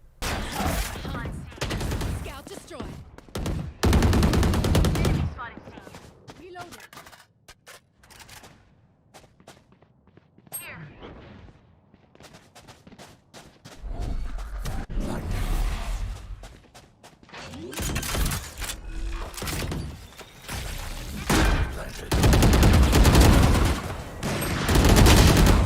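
Gunfire in the tactical shooter Valorant comes in several loud, sharp bursts and scattered single shots, separated by quieter stretches of game ambience.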